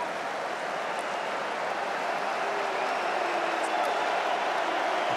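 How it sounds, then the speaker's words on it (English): A rugby stadium crowd at an England versus Argentina World Cup pool match applauds a substitute coming on, a steady, even wash of distant clapping and crowd noise holding constant for several seconds. "Applause for Mani Tuilangi, 32-year-old"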